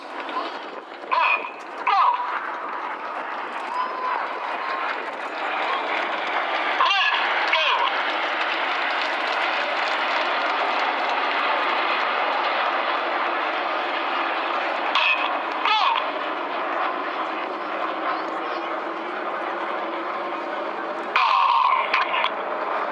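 Red Arrows display jets roar overhead at the Clacton air show in 2016, a long, steady, loud engine rush with brief swells and dips as the formation passes.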